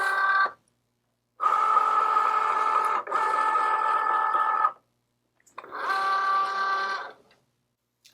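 A Cricut Joy cutting machine whirs as it grabs and feeds in a cutting mat loaded with a fine point blade, in three steady mechanical bursts separated by short pauses.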